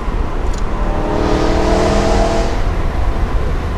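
A sports car engine, a BMW E92 M3 or Shelby GT350 with a manual gearbox, revs loudly and close on an open road, rising in a throaty tone and then easing off.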